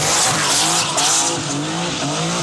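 A 1991 Rauh Welt Porsche 911 Turbo runs loudly and steadily close by, its engine note rising and falling in waves with no speech over it.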